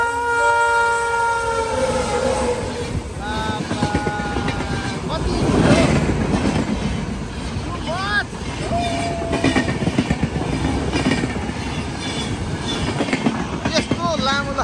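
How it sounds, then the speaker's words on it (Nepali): An Indian train rushes in at high speed near Kakarbhitta, a loud rumbling roar with repeated horn blasts and rhythmic wheel clatter on the rails, while people talk over it. "अहिले चाहिँ रेल आइसकेको छ है उताबाट है। बहुत स्पिड आउँदो रहेछ।"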